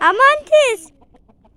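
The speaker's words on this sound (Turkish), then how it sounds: "Size bu arada tavukları göstereceğim." A few close, loud clucks from a chicken in quick succession, then quieter background clucking and faint sounds.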